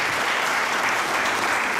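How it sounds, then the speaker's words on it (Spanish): An audience at a Spanish-language colloquium applauds: dense, steady clapping from many hands, close and continuous throughout. "Gracias, un aplauso para Nacho."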